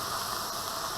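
Minced beef crumbled into a hot pan for a ragu sauce gives a brief, even, hissing sizzle that stays constant from start to finish with no voices.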